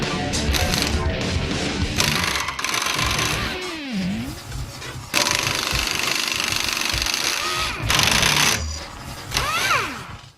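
A Chicago Pneumatic CP7748 composite air impact wrench with a twin hammer clutch fires in loud bursts, rattling hammering alternating with whirring spin-ups and short pauses, close and without speech.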